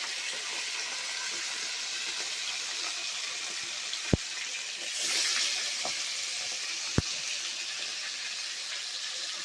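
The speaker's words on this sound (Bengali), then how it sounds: "এই মাছটা লাস্ট আমার ভাজা হচ্ছে" Pabda fish frying in hot oil in a wok, a steady broadband hiss of sizzling that swells briefly midway, with two sharp clicks, no talking.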